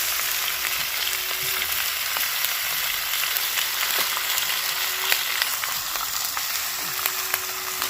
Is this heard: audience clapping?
no